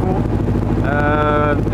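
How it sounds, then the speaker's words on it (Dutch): A small riverboat motor drones on the Sekonyer river in Kalimantan, Indonesia, a steady low engine hum that runs throughout with wind noise; a rising tonal whine joins partway through. "je hoort de motor natuurlijk wel op de achtergrond"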